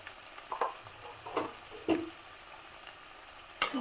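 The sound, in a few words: frying spice paste with turmeric in a pan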